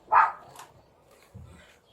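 A single dog gives one short, fairly clear bark close by, followed by a faint lower rumble and quiet room noise.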